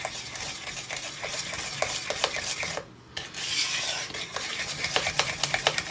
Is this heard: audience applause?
no